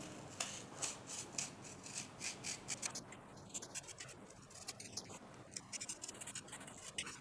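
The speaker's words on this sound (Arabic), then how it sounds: "باستخدام الكتر وباستخدام مقص، وهي أداة متوفرة عندنا" Scissors snip through a paper stencil in a quick run of rhythmic crisp cuts, then slower scratchy rasping and rustling of paper, close and moderately quiet.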